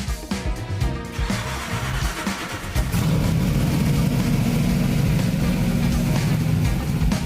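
Shelby Ford GT race car engines at the Goodwood Revival, a deep, loud mechanical roar that builds and then holds a steady, heavy rumble with no talk over it.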